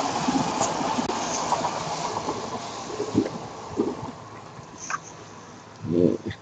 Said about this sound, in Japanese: 電車が来ましたね。